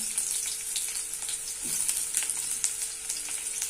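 Chopped onions frying in a little hot oil in an Indian kadai, a steady bright sizzle throughout with small crackles and pops, close and fairly quiet, no talking.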